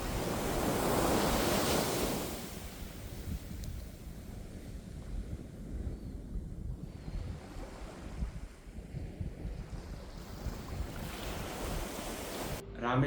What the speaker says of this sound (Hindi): जैसा कि आप देख रहे होंगे, मेरे दोनों तरफ ही समुद्र है।